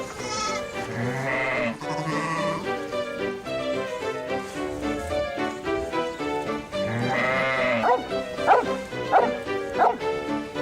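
A dog barks and yips in quick repeated bursts over a background of bleating goats or sheep, the barking loudest and most rapid toward the end.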